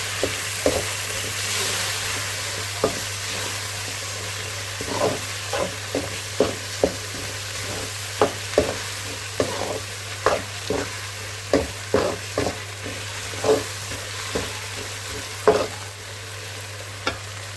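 Finely chopped tomatoes fry in a pan over sautéed ginger and garlic for a Tamil prawn and ridge gourd dish. A steady close sizzle runs throughout, broken by frequent scraping and tapping as a spoon stirs against the pan.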